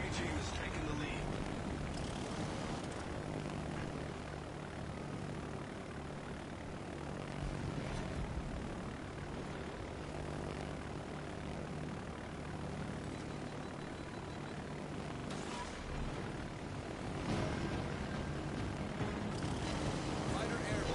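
Fighter aircraft engines drone in World of Warships Legends, a continuous propeller roar with swelling passes, mixed with game sounds and voices talking throughout.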